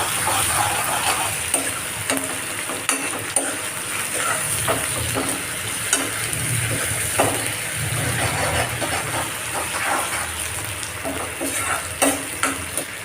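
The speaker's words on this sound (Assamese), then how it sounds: "এতিয়া আদা নহৰু গোন্ধটো যোৱালৈকে এইখিনি অলপ দেৰি ভাজি ল'ম।" Steady loud sizzling of ginger and garlic frying in a hot pan, with occasional crackles and stirring scrapes, no voices.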